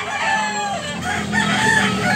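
A white fighting rooster with green legs crows at close range, a loud, drawn-out call with a harsh, strained edge, heard over steady background noise.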